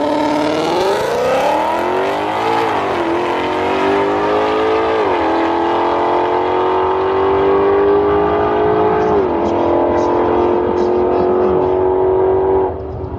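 A Chevrolet Camaro ZL1 or Mustang GT500 doing a burnout at a drag strip, loud and close, its engine holding a high sustained wail that climbs, dips and shifts pitch before cutting off near the end.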